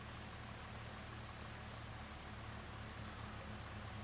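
Steady rain falls on a farm, a dense, even hiss of drops that holds at the same level throughout with no voices.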